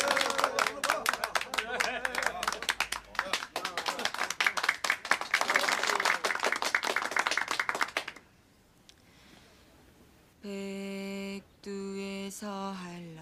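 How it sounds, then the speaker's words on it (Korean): A group clapping in a steady, sharp rhythm, close and lively with chatter mixed in, for about eight seconds before dropping to a hush, after which sustained sung or played tones begin. "박수"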